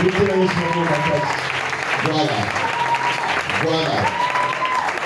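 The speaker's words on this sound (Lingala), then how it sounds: "Est-ce que tu peux acclamer pour Jésus?" An audience claps and cheers for Jesus at a lively gathering, with steady applause and shouts kept up under a voice speaking over the crowd throughout.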